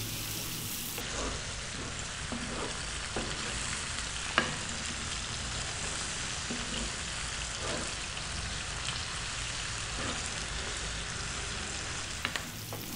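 Chicken with black pepper frying over a lively, above-medium heat in a pan, stirred now and then: a constant dense sizzle close up, broken by occasional scraping clicks of the utensil, with no talking.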